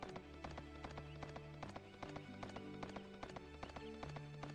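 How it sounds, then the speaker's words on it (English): A horse gallops in the video game Suikoden III, steady rapid clip-clop hoofbeats in a continuous rhythm over game music, moderately loud throughout. "I love riding the horse. I just love it."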